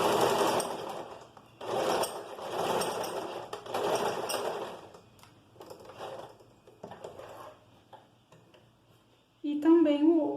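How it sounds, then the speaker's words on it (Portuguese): A sewing machine backstitches at the start of a seam, then sews it at a one-centimetre allowance, with several short bursts of rapid mechanical stitching separated by pauses, then a brief higher tone at the end. "Retrocesso no início, costura com 1 centímetro de distância normal."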